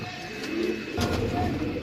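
Pigeons coo in a loft of birds kept for sale, a low throaty murmur rising and falling across the short stretch with a soft background hum, close and moderately loud.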